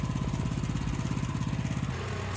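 A BCS 853 walk-behind tractor with a 13-horsepower Honda GX390 engine driving a Berta flail mower through tall corn, running loud and close with a steady low pulsing throb throughout.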